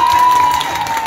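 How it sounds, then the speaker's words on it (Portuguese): Brief burst of applause and crowd noise at a live street tribute with a message car in Vila Ede, Zona Norte, with scattered clapping and cheering under a steady tone. "Palmas pro Kaique, pessoal."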